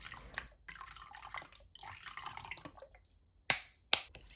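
Micellar water is stirred into a bowl of clean water, producing soft, close sloshing and trickling in uneven bursts, followed by two sharp splashy clicks near the end.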